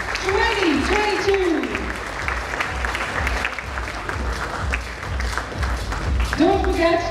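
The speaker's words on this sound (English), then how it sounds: "let's give them a huge, huge round of applause" Audience applause greets the unveiling of the Pitch Madison Advertising Report 2022 at an advertising industry event, a steady wash of clapping through the whole stretch, while a voice speaks over it near the start and again at the end.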